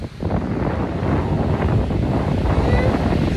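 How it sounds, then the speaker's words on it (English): Ocean waves and gusting wind on a Miami beach form a steady, full roar with no clear breaks, buffeting the microphone up close. "The waves are here, the wind is blowing"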